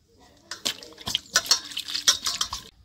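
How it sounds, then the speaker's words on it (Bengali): Water poured over palm fruit to wash off sand in a village kitchen, several splashing bursts and trickles in quick irregular succession, close and moderately loud. "আমি এখন পরিষ্কার করে তাল ধুয়ে নিব এরকম করে উপর দিয়ে জল দিয়ে"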